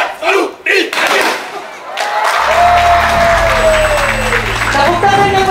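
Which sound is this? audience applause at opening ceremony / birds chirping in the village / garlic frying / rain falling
audience applause at opening ceremony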